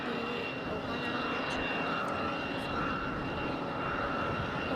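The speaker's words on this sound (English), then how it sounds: "A220 headed to Boston. JetBlue 214." JetBlue Airbus A220 jet at Raleigh-Durham airport, its engine noise a continuous moderate roar with a faint whine, steady and fairly close, no talk present.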